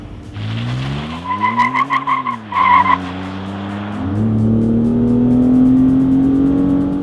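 Ford F-150 with the 3.5L EcoBoost V6 and a mild cat-back exhaust accelerating, a steady rising engine drone that climbs in pitch over several seconds, with a brief tire-squeal-like chirp early on and no talk.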